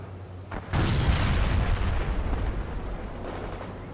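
Heavy rocket fire in the real-time strategy game World in Conflict, a sudden loud boom that opens into a long rumbling roar of launches and blasts, with no talk.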